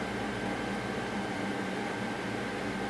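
A window air conditioner runs after its filter has been cleaned, producing a continuous, even whoosh of blown air with a faint mechanical hum, steady throughout with no change in level.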